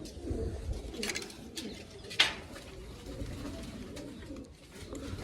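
A flock of Sar-Far pigeons coos steadily in low, overlapping murmurs, with one sharp click standing out near the middle and a soft outdoor hiss underneath.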